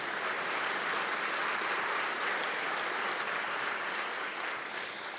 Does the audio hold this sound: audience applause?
yes